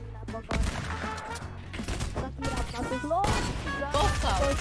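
Fortnite battle royale firefight with a loud burst of gunshots in quick succession, close and punchy, overlapping with excited talking and game effects throughout.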